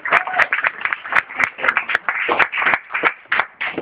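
An audience at a psychology debate final claps in an irregular patter of sharp, close hand claps. The applause stays scattered rather than a dense roar.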